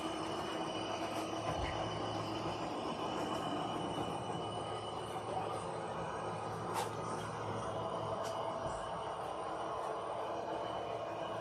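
A model train runs on a layout, a steady low rumbling roll with faint wheel squeal and occasional clicks over track joints, constant and fairly quiet throughout.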